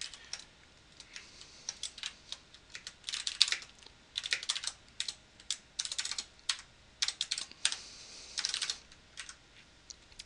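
Code typed on a computer keyboard in bursts of quick, close key clicks with short pauses between runs, no voices.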